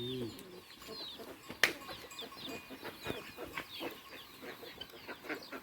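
A hen clucks softly with higher chick peeps scattered through, close and fairly quiet, with one sharp rustle early on.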